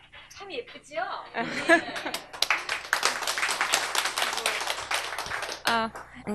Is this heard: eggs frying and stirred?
no